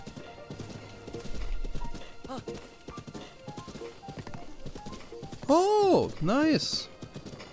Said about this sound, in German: Gutes Pferd kommt auch hier durch hügeliges Gelände durch.